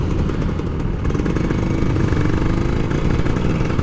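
A Kawasaki Ninja RR 150, an older two-stroke motorcycle, runs its engine loudly and steadily close by, a rough buzzing drone that rises slightly in pitch as the rider holds the throttle, with no voices over it.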